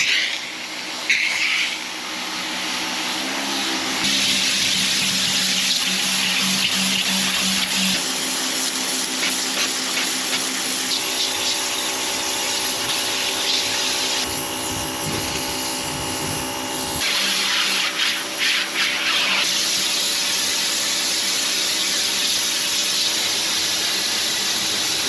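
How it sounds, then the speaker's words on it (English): A pressure washer spraying water onto the wall of an old house in the Japanese countryside, a loud steady hiss and motor drone that runs continuously, with small shifts in pitch and intensity as the spray moves. "we'll hit it with the pressure washer and see how much of a difference it makes"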